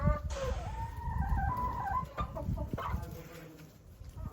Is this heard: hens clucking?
yes